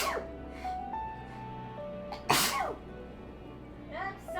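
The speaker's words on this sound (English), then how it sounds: "I'm sorry, I had to sneeze." A single loud, close sneeze bursts out midway through a quiet game soundtrack of sustained tones.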